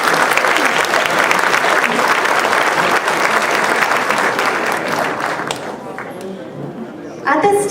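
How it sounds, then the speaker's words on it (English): A large audience at a Taiwanese chamber of commerce gala applauds two honored doctors, with dense, loud, sustained clapping that fills the room for over five seconds, then thins and fades as a voice begins speaking. "Let's please give them one more round of applause for their service."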